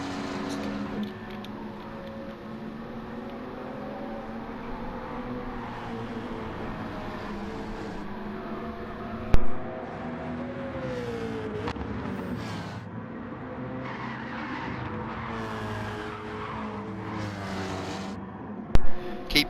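Race car engines droning steadily through a long-course lap at Watkins Glen in a racing game, a continuous mid-level hum with shifting pitch as the car accelerates and brakes, with a couple of brief sharp knocks.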